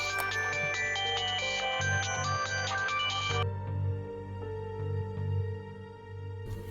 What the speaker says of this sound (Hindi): ये मरियम भी ना हद ही करती है, कभी भी मुंह उठा के फोन करना शुरू हो जाती है।